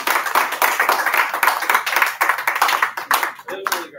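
A small classroom group claps in a quick, uneven burst that lasts a few seconds, with a voice speaking near the end.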